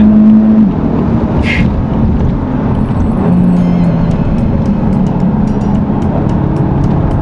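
Cupra Formentor VZ5 with its five-cylinder engine accelerating hard, a loud, continuous engine roar with rising pitch and gear changes, heard up close from inside the car with no talk.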